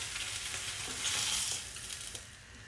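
Salmon fillet cooking in its own fat in a pan, giving a steady, moderately loud sizzle and frying hiss that runs continuously without any voices.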